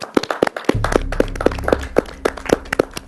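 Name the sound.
audience applause as models leave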